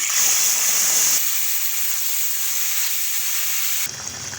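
Beetroot paste hitting hot ghee in a pan: a loud, steady sizzling hiss that flares at the start, holds evenly for several seconds, then drops to a softer frying crackle, close up with no talk.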